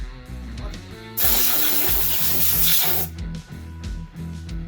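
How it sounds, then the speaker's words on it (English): A loud hissing blast of compressed air bursts out for about two seconds, blowing dust out of a Can-Am X3 belt and clutch area over quieter background music, then cuts off. "give everything a good blow here with compressed air just to clean out all of the stuff in here"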